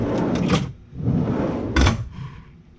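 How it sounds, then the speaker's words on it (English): Camper drawers sliding out of a Toyota 4Runner camper build, two rolling extension strokes with a thump as each reaches its stop, close and fairly loud. "So we got both the drawers coming out."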